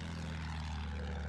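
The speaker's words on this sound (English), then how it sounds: "There's so many fake planes in the sky." Propeller aircraft drone overhead in a Battlefield game as a faint, steady, low engine hum with no pause and no talk over it.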